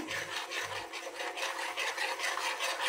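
A spoon scrapes and rubs steadily through a white sauce of milk in a pan, a close, rhythmic stirring sound with no talk.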